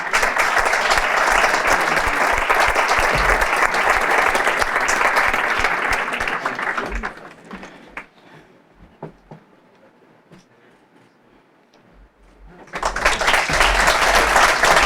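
A gala awards audience in Ibiza applauds honorees at the Sabors 2023 prizes, loud sustained clapping for about seven seconds, fading to near quiet, then a fresh burst of applause returning strongly at the end.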